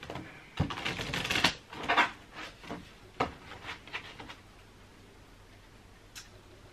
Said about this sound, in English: Let's give these cards a good shuffle.